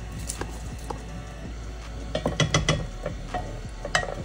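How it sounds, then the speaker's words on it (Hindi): Millets go into a pan of mixed powdered spices and are stirred. A low sizzle runs under scattered scraping and tapping of the spoon, with a denser cluster of knocks in the middle. "अब हम डालेंगे इसमें मिलेट्स"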